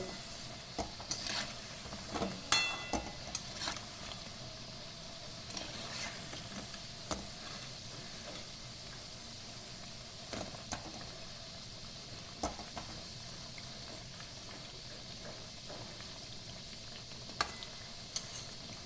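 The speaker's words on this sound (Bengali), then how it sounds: "ভালো করে ভাজা হয়ে গেছে, আমি একটা অন্য জায়গায় তুলে নিলাম।" Gaja sweets fry in oil with a soft continuous sizzle, broken by scattered sharp clicks and scrapes of stirring in the pan, quiet and close, with no voices.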